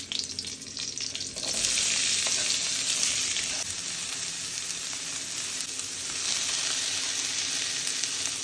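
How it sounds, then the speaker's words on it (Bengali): Potatoes and cauliflower fry in a pan, cooked until slightly charred, giving a continuous close sizzle that rises in intensity after the first second and holds steady, with faint stirring and no voices. "তাই ঠিক করলাম আলু ফুলকপি ভাজবো, তবে একটু পোড়া পোড়া করে।"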